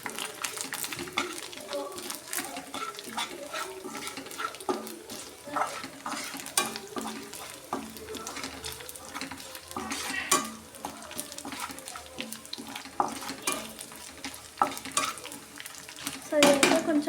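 A spatula turns karam rice with chili powder and salt in a hot pan, making continuous rustling scrapes and clatters over a frying hiss, with a busier burst of stirring near the end.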